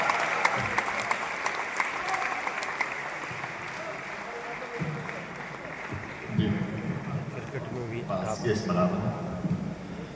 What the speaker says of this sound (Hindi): दोनों हाथ उठाकर तालियां बजाइए रोहित शर्मा के लिए, एक बार जोरदार तालियां।